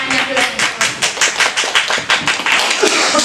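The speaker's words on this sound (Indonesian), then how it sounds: "Boleh tepuk tangannya dulu." A group of teachers in a school meeting claps briefly, a short run of distinct, fairly close hand claps in a loose rhythm.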